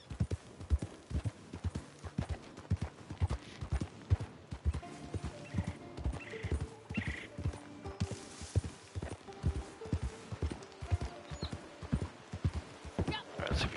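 Horse hooves clip-clop in a steady walking rhythm, with a horse neighing midway, in the western video game Red Dead Online; a person talks over the sounds at times.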